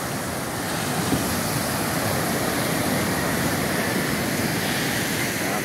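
A large volume of floodwater rushes in a dense, steady roar, loud and continuous from start to finish with no clear breaks.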